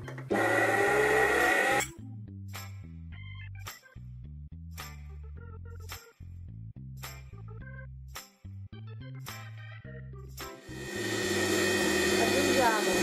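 An electric mixer whirs loudly while beating eggs, yolks and sugar for a cocoa cake, in two bursts at the start and end with background music between.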